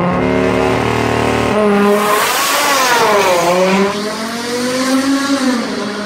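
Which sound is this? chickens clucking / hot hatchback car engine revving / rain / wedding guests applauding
hot hatchback car engine revving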